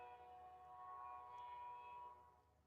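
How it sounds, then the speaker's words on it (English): A distant train horn sounds one long, sustained, steady tone in the background, faint against quiet ambience and fading out at the end. "Sorry if you hear that horn in the background."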